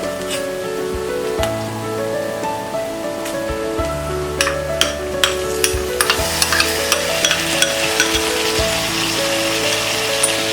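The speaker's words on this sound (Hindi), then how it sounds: "और इसे मीडियम फ्लेम में फ्राई करेंगे। अनियन सॉफ्ट हो गए। अब हम इसमें डालेंगे ये टमाटर" Onions and tomatoes frying over a medium flame for egg biryani, a steady sizzle with a stirring spoon scraping and clinking against the pan in quick irregular taps, close and loud, no voices.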